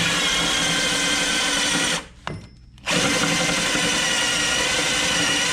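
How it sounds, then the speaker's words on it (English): Spot weld cutter bit drilling through the rocker panel of a Mercury Sable station wagon, a loud close power-drill whine that cuts out briefly midway, with a short clank, then resumes steadily. "there comes the spot weld cutter now"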